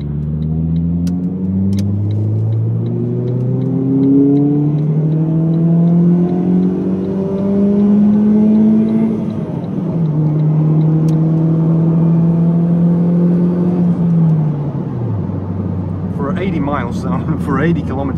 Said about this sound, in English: this is a perfect place to show you the amazing downshifting capabilities of these cars.